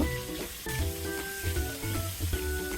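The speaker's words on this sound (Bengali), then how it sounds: "মাছগুলোকে আমি হালকা বাদামি করে ভেজে নেব" Thick pieces of katla fish fry in oil with a steady sizzle, mixed with faint tonal ringing and low bubbling, close and moderately loud.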